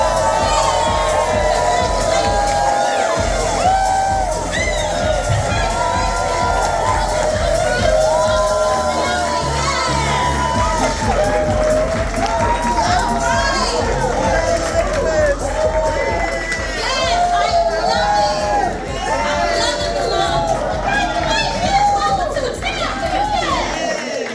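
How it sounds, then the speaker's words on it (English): A large audience at a business meeting cheers, shouts and whoops continuously to recognize new associates, a loud sustained crowd roar with mixed voices throughout. "stand to your feet and let us cheer and recognize"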